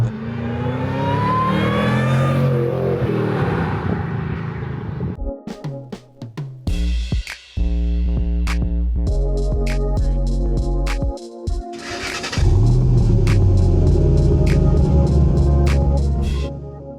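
A supercharged 2007 Ford Mustang Roush Stage 3 with a twin-screw supercharger revs hard several times, loud and close, with sharp throttle blips rising and falling between brief idle stretches.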